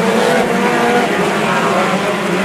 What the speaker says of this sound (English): Andy Baugh going to get the early advantage down into one, but Stark's not going to let him get away